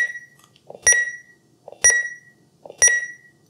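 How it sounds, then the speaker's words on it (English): ThermoWorks TimeStack kitchen timer alarm going off: three loud, sharp electronic beep bursts spaced about a second apart, each a bright, piercing tone, with no talking. "because sometimes the timer's going off and you can't hear it. It's nice and loud."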